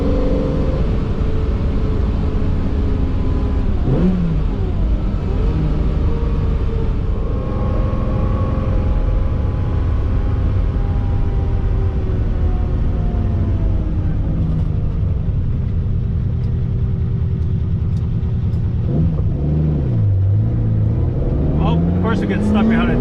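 A Ferrari 365 GTC/4 on the move, its engine droning loudly from inside the cabin, with rising and falling revs as it shifts through gears, and a voice speaking over the engine noise.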